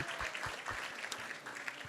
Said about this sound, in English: let's give a big round of applause to everyone who has joined us here tonight